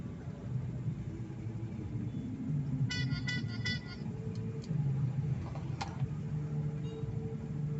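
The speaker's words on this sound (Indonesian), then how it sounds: "Motor rame, mobil rame." Busy night street traffic in Palembang on New Year's Eve, with motorcycles and cars giving a continuous rumbling engine drone, plus a few short horn toots and clicks partway through.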